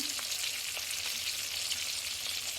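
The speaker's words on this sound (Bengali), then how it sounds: "এটাকে ভালো করে মশলাটা কষিয়ে নেবো" Ground spice pastes of cashew, melon seed, poppy seed, ginger and green chilli fry for butter paneer, a bright continuous sizzle up close with faint stirring taps.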